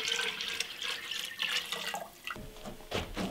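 Water pours steadily through a gravity-fed drinking-water filter being flushed after maintenance, a continuous splashing, trickling stream close by, with a brief shift in the flow near the end.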